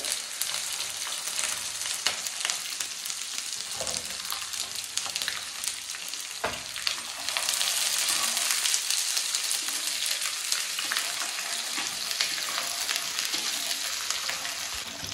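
Onion and green chili frying in a pan for a chicken curry, a steady close sizzle with scattered crackles and a louder, denser burst about halfway through, no voices.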